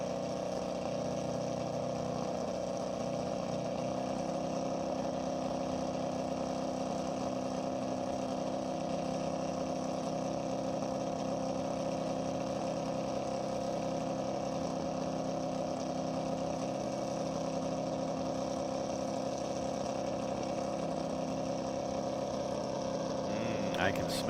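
A 4-cylinder race car engine fitted with a Volvo cylinder head runs at a dry-lake speed event, giving a steady, even drone with no clear revs or changes across the whole stretch.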